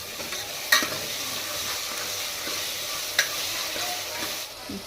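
Tomatoes with salt being stirred in a hot pan for a home-cooked vegetable curry, a constant sizzle running throughout with a couple of distinct spoon clanks against the metal.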